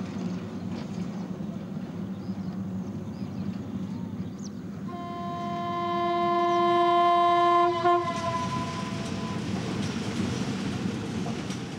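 A train on the Burma death railway of World War II, running through jungle, rumbles steadily at close range, then sounds a long, loud horn blast that swells and cuts off, with the rolling rumble carrying on afterward.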